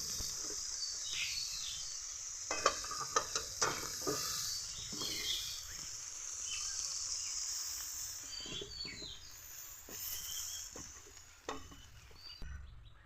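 Cauliflower fries in oil in a wok, making a soft continuous sizzle broken by several sharp clacks and scrapes of a spatula stirring, with faint insect chirps in the background.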